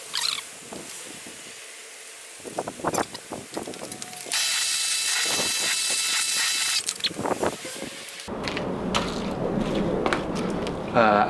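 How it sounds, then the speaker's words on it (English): Wheel cleaner sprayed onto the wheel of a Mazda RX-7 during its first wash, a steady hissing spray lasting several seconds alongside intermittent handling noises and a voice, followed by broader rushing water-like noise. "Wheel cleaner, Bibbery wheel cleaner"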